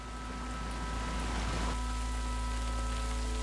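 Steady rain in a video game patters continuously, a soft even hiss with light droplet texture, over a low constant hum.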